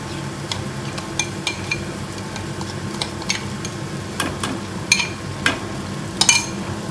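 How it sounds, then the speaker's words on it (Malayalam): Masala mixture being stirred and sautéed in oil in a pan for an old-style mango fish curry made without coconut: steady close sizzle with irregular spoon scrapes and light clinks against the pan, no talking. "ഈ എണ്ണയിലിട്ട് ഈ കൂട്ടിലിട്ട് നല്ല മിക്സ് ചെയ്തൊന്ന് വഴറ്റിയെടുക്കേ."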